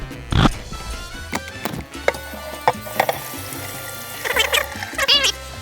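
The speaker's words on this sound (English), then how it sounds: "Let's get it rinsed." Laser-etched metal being rinsed under running water, with splashing, pouring and handling clatter in irregular bursts, close and moderately loud with no speech.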